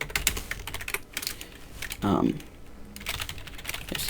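Code being typed on a computer keyboard: a steady clatter of keystrokes runs throughout at close range, with a louder burst of pressed keys around the middle.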